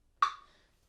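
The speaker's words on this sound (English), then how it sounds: "we're going to take our metronome, we're going to put it on 50." A single sharp metronome tick, close and clear, fading quickly into silence.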